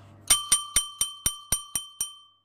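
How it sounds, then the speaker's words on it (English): A small bell is struck eight times in quick, even succession, each bright ring decaying briefly before the next, close and clear with no talk. "I'm just gonna keep playing with this bell."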